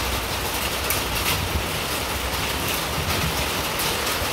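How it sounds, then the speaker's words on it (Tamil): Steady rain pours down outdoors in a dense, even hiss with no breaks, loud and close, with no voices over it. "மழை வந்தாச்சு"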